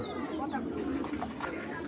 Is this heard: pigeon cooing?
yes